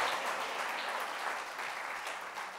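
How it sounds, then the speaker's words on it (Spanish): Church congregation clapping for the Lord, a soft but continuous patter of many hands that stays fairly even and distant throughout, with no voices rising above it. "Denle un aplauso al Señor"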